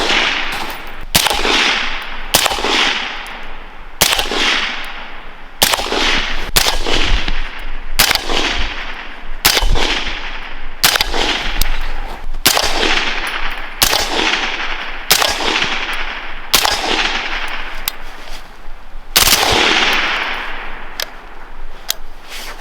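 Suppressed 5.56 rifle shots from a Colt 11.5-inch upper fitted with a Griffin Recce 5K suppressor, about fifteen sharp cracks at an uneven steady pace over twenty seconds, each followed by a brief ringing tail outdoors.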